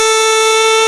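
Small cheap plastic toy horn (turotot) blown in one loud, continuous reedy tone for under a second, close up with no talk.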